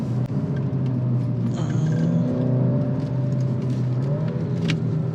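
Alfa Romeo Giulia driving on a wet, slippery track, its engine a steady close rumble with a rising whir as it pulls through a corner, no voices over it.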